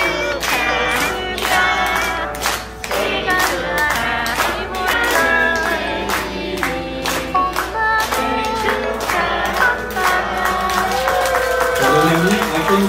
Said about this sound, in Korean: 저희 신녀님께서는 다 같이 박수 치면서